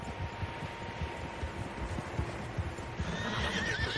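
Horses clip-clop in an irregular rhythm at moderate distance in Red Dead Redemption 2, and a high whinny rises near the end over a faint steady hum.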